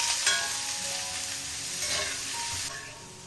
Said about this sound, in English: saute 2 medium onions sliced.